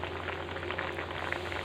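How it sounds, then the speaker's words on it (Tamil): Drumstick sambar with vegetables boiling in a pot, a steady close bubbling and simmering hiss that continues evenly without pauses. "இப்போ அந்த தண்ணியிலே சாம்பார் வந்து காய் கொதிச்சிட்ருக்குது"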